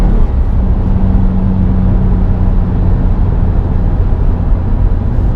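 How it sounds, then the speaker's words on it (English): 2018 Subaru WRX STI turbo engine pulls hard at full throttle, a loud, steady low rumble and drone from inside the car with no change in level and no speech. "You can definitely hear that turbo when you really get on."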